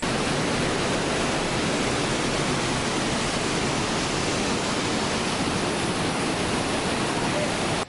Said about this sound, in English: we swung by Pilon del Diablo, which is an enormous waterfall